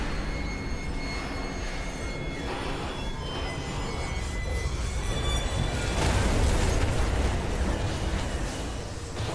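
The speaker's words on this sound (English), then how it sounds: "So that was in fact the noise of us having a little train crash" A train in the video game Fallout London runs into a dead end and crashes, a loud continuous rumbling roar with grinding metallic squeals and a heavier surge of noise partway through.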